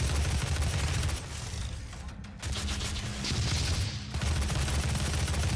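Rapid gunfire from DOOM (2016) gameplay fills the stretch as a dense, loud barrage of bursts with brief dips around the middle.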